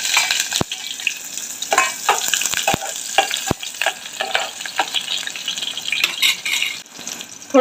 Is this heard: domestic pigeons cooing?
no